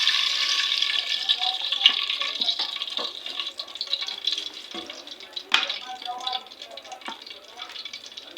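Cooking oil poured into a pot over an African village cooking setup, a continuous splashing, gurgling trickle with small bursts of liquid, heard close and steady for several seconds.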